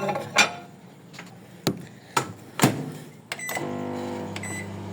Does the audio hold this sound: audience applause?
no